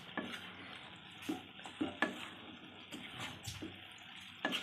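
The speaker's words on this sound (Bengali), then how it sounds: "একটু কর্ন দিয়ে এবার একটু নাড়িয়ে নেব।" Corn for chicken salad is stirred in a pan, giving soft intermittent scrapes and light clinks over a faint sizzle, quiet and close with no talk.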